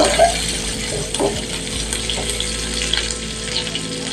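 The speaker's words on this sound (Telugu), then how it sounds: "ఇప్పుడు దీనిలో మనం ఉల్లిపాయలు కళ్ళగా పొడుగు కట్ చేసి పెట్టుకున్నాను ఆ ఉల్లిపాయలు వేసేస్తున్నాను" Long-sliced onions frying in oil in a pan for a snake gourd masala curry, giving a steady, moderate sizzle with a few soft clinks and stirring bumps throughout.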